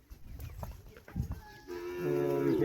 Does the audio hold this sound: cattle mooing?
yes